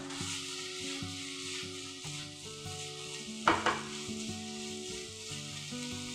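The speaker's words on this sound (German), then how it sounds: "Gut rühren." Bamboo strips and pork strips frying in a pan for Chinese fish-fragrant pork while being stirred, a steady close sizzle with one brief louder scrape of the utensil partway through, against a melodic music bed.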